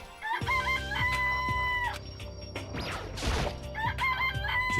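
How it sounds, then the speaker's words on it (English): A chicken in the Danganronpa: Trigger Happy Havoc video game, heard as repeated crowing and clucking calls at the start and end. A crash-like burst sits in the middle, all over steady background game music with no talk. "It's a chicken. It's really alive"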